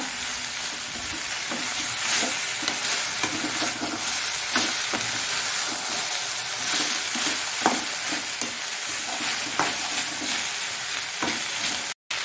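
Cauliflower palya, an Udupi-Mangalore style dry stir-fry, sizzles steadily in a pan while being stirred, with repeated scraping strokes close up over a constant crackling fry.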